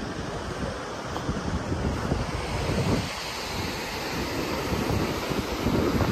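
Waves wash steadily onto a sandy beach in Sierra Leone with a constant broad rush of surf, buffeted by wind noise on the microphone.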